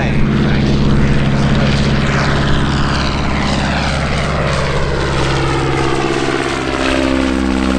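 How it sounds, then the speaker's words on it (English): A Royal Aircraft Factory SE5A World War I biplane at an air show gives a loud, steady propeller engine drone that holds close and strong throughout, with a pitch shift as it passes. "It's the Royal Aircraft Factory SE5A, in fact."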